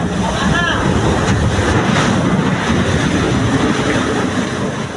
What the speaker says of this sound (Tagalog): Umugong ang rumaragasang tubig na tumagos sa barkong gawa lamang sa kahoy.